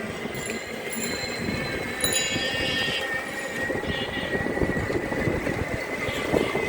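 A train rolls past a railway level crossing near the Jamuna rail bridge at night, a loud continuous rumble of wheels on track with high metallic squeals and a few sharp clanks.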